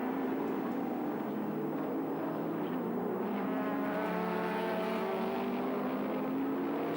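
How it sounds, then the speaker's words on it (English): Touring cars, including a big green Ford Falcon, racing at Sandown in 1984, a steady loud engine drone from a distance that holds throughout with no speech. "Slower traffic getting out of the way of the big green Falcon."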